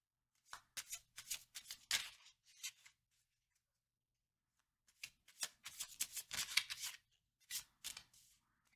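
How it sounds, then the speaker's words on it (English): Deck of playing cards being shuffled up close in two bursts of quick riffling and flicking, split by a quiet pause in the middle, with no talking. "Cards keep flipping sideways like this when I'm shuffling."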